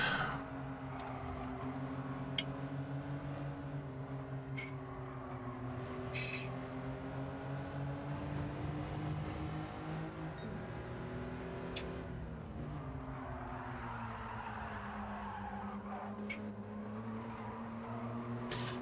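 BMW race car engine in a racing video game, a sustained droning engine note with steady harmonic bands rising and falling as the car accelerates and lifts through corners, loud and continuous with occasional brief clicks.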